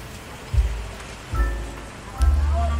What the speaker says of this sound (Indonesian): Cuman sekarang kondisinya hujan,